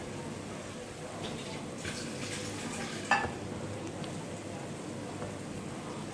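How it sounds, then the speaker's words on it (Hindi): Spices fry gently over a low flame for vegetable dum fried rice, a faint, continuous sizzle with one sharp clink of a utensil partway through. "तो इसलिए आपने स्लो आंच पर इसको थोड़ा सा फ्राई करना है।"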